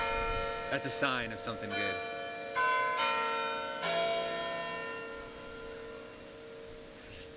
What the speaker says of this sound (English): just as I start talking, the bells go off